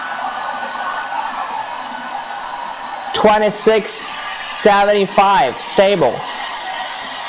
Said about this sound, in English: We're running a hair dryer